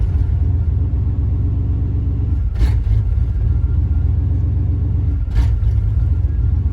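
A rough-running 1993 Chevrolet K1500 pickup engine idles with a heavy low rumble, broken by two short throttle blips a few seconds apart, each a brief surge before it settles back.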